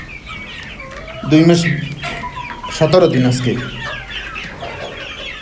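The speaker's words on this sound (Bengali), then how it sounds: "তো গাইস, আজকে নিয়ে আসলাম দেশি মুরগি।" Two-and-a-half-month-old desi chickens cluck in bursts close by, with someone talking over and between the calls.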